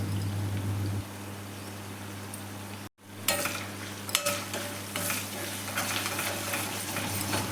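Ginger paste stirred with salt and turmeric in a hot pan: steady oily sizzle, a brief cut of silence, then louder scraping and clinking of a spoon against the pan amid the frying.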